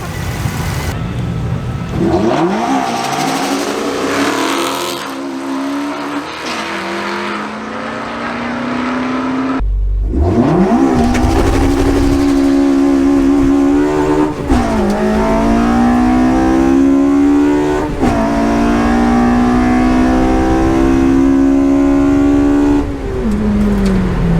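A drag car fitted with a Toyota Prius engine accelerates hard, its loud, close engine note climbing steadily in pitch, dropping briefly at a gear change, then winding up again through a long, straining pull.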